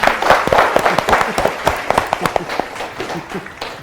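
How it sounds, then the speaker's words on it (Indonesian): An audience at a television show applauds, with dense clapping close and loud that gradually thins out and fades. "kita beri tepuk tangannya ya"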